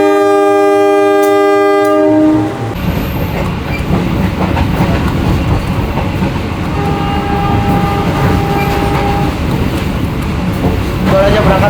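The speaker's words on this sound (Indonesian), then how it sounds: "Baru aja berangkat dari stasiun Sidoarjo setelah bersilang dengan kereta api Pandalungan" Local train hauled by a CC 203 locomotive departing Sidoarjo station opens with a loud sustained horn blast, then steady rumbling wheels and clickety-clack, with a second horn tone later.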